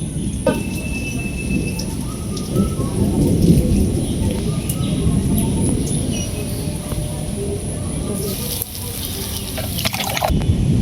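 Heavy rain pours steadily close by while rolls of thunder rumble low and long through the downpour, with a brief brighter burst of rain noise near the end.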